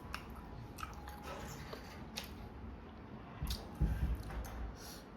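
Close chewing of rice with dal, aloo posto and cabbage posto, soft wet squishy mastication repeating steadily, with a louder burst of chewing near the end, no talk.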